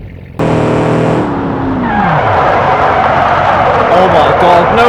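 Car tyres skid under full braking in the game Automation, a sudden loud screech that drops in pitch and then gives way to sustained, noisy scraping.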